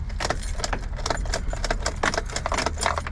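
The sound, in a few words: car key inserted into Suzuki Jimny ignition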